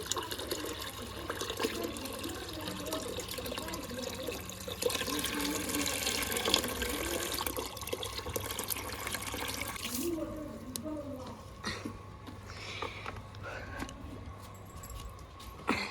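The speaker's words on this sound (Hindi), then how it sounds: "प्रेशर देखो पानी का, बिना मोटर" Strong household tap water gushing steadily without a pump motor, a continuous splashing rush filling the sink at close range, with a voice briefly talking over it.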